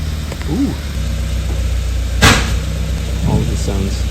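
A Subaru WRX engine idles close by with a steady low rumble, while voices talk briefly over it and a sharp clack cuts in midway.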